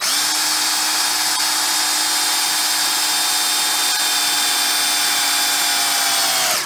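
A power drill runs steadily into a busted bolt, a continuous high whine with a strong hum held for about six seconds before spinning down at the end, loud and close with no talking.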